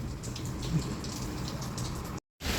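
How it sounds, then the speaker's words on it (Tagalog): Rain falls steadily outdoors in Hong Kong after a heavier downpour has eased, a dense continuous patter of drops broken by a brief cut to silence near the end. "merong ulan pa naman pero hindi naman siya sobrang lakas"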